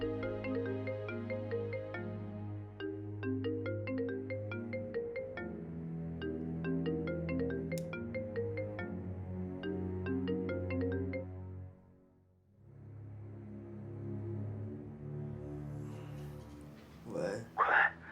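A telephone rings at night with a repeating electronic ringtone melody for about twelve seconds. It breaks off briefly, then starts again, and a short voice is heard right at the end.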